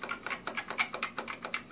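Arcade pushbuttons scritch and click each time they are pressed, about eight close, evenly spaced presses in a steady rhythm with no talking.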